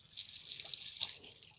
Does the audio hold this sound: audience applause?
no